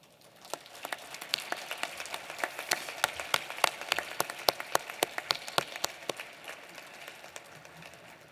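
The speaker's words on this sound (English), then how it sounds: "So I think your overwhelming applause means that you all agree" Assembly delegates at the General Assembly of States Parties applaud approval of a proposal, a large hall of scattered, sharp hand claps building to a steady patter then thinning out, fairly distant and with no talk.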